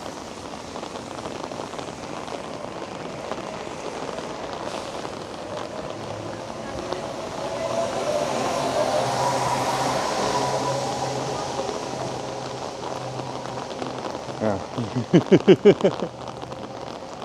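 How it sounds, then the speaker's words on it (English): Heavy rain pours steadily onto a roof close by in Vancouver, a dense hiss with a brief murmured word and some knocking near the end. "the rain really is picking up now"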